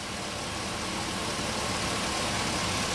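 A 2003 Chevy Suburban's 5.7-liter gas V8 runs steadily at idle, a constant close rumble with no pauses and no voices.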